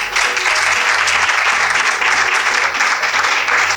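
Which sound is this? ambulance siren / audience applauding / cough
audience applauding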